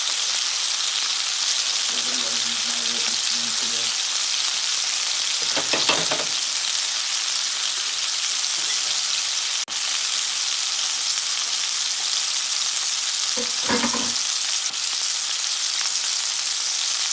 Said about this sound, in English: what I'm doing is just letting the shrimp brown side